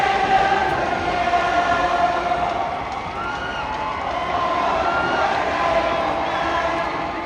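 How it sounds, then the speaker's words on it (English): Away team's fans at a Thai football stadium cheering and chanting, a broad steady crowd roar heard from a distance, filling the whole space. "their fans are making loads of noise now to kind of drown out the song"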